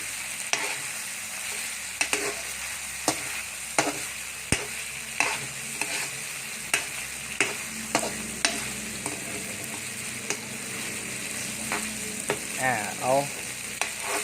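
Chicken breast stir-fried with oyster sauce in a pan, sizzling steadily while a utensil scrapes and knocks against the pan in regular strokes, without talk.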